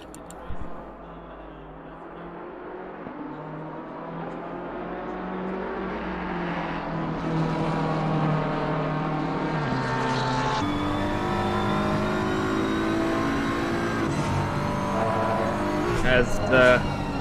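BMW race car engine roaring through the first corners of a circuit in the racing game Assetto Corsa Competizione, a sustained climbing engine note with gear-change steps and rising pitch, loud and continuous, with commentary talk faint or absent.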